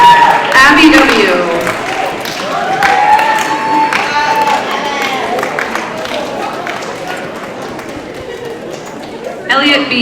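A crowd at an 8th grade awards ceremony keeps up a long stretch of applause with cheering voices and scattered shouts, loud at the start, easing slightly over the middle and swelling again near the end.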